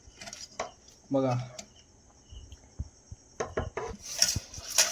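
A utensil scraping and clinking in a pan while homemade spice masala and turmeric are stirred, with irregular metallic taps and scrapes, some close and sharp, and someone talking in between.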